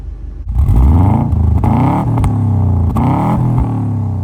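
A 2002 Subaru Impreza WRX STI engine roars to life and runs with a deep, rumbling tone, loud and close, with a couple of throttle blips rising and falling over a steady idle.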